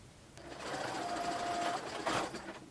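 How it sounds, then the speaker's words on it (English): Sewing machine running a steady zigzag stitch over the raw edge of a throw blanket being made into a cardigan, a soft continuous mechanical hum for a few seconds, no talk. "I want to sew a zigzag stitch right over that raw edge"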